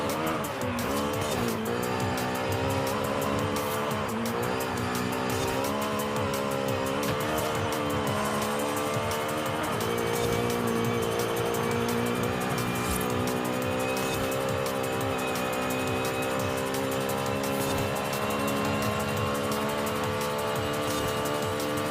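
JDM cars climb a Mexican mountain touge road in Forza Horizon 5, with a loud, steady engine drone rising and falling in pitch through the gears and occasional tire squeal.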